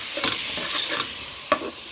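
Tomatillo sauce sizzling in a hot pan while being mixed, a bright hiss running throughout with a few short scraping bursts from the stirring, one sharper scrape near the end.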